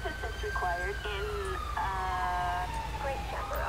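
A GTA 5 ambulance siren wails with rising and falling tones over a low engine rumble, moderately loud and continuous.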